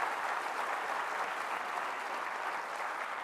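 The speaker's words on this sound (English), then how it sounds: "Can we have a big round of applause for them?" Steady, even applause from a large audience after a performance by Tibetan students at a university event, moderately distant and continuous throughout with no voices over it.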